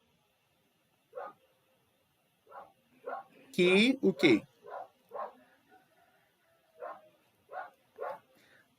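A dog barks in short, sharp, separate yaps spread through the scene, with a brief burst of louder barking in the middle, while a person speaks over it in an indoor online class.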